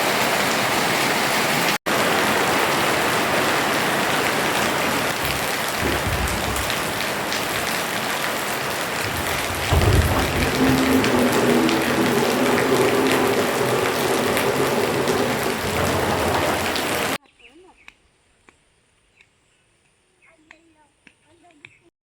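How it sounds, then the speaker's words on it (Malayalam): Heavy rain pours steadily and loudly for most of the stretch, a dense continuous wash that stops abruptly, leaving near silence with a few faint ticks and drips. "അത് കഴിഞ്ഞ് പെരും മഴയാണ് കേട്ടോ. അത്യാവശ്യം നല്ല മഴയുണ്ടായിരുന്നു."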